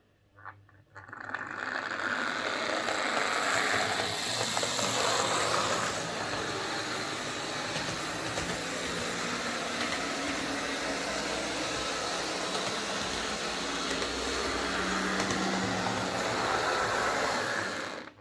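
A Hornby Class 253 HST Intercity 125 model locomotive runs on its own, pulling sluggishly, giving a steady whirring, rattling motor and gear noise that starts after a brief pause and carries on evenly with no talk.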